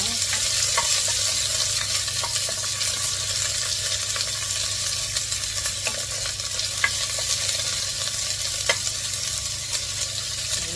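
Onions sautéing in oil in a pan for beef bulalo, a constant close sizzle with scattered small scrapes and pops, heard alone.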